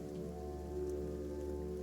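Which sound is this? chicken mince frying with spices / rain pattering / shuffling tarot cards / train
rain pattering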